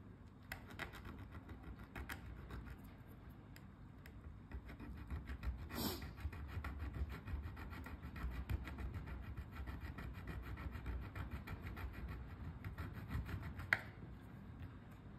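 Small parts for an NH35 automatic watch are worked with a hand file, giving quiet, close rasping strokes repeated in a steady back-and-forth rhythm over a low background.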